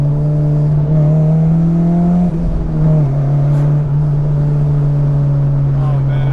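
An Acura RSX Type-S driving with the window down, a steady droning engine note holding a constant pitch with a brief shift midway, heard from inside the cabin under road noise.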